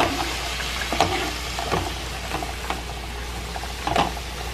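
Food reheats in a pan on a home stove, giving a soft, steady sizzle and hiss with a few faint clinks and stirring knocks, nearby and fairly quiet, with no talking.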